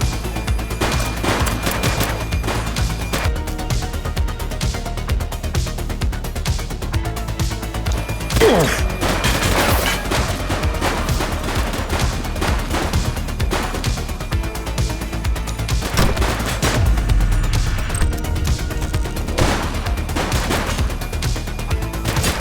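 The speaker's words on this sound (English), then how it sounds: "Shots fired!" Rapid gunfire rings out in The Precinct, an open-world police game, as repeated shots and bursts crack over a dense, busy mix for the whole stretch, with sharper volleys spiking near the middle and again later on.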